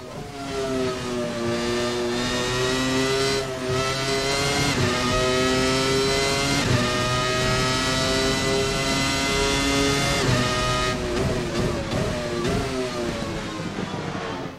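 A 1997 Formula 1 car in the Assetto Corsa racing game screams through repeated upshifts and downshifts on track, its high-pitched engine climbing and dropping in pitch, loud and continuous with no talking.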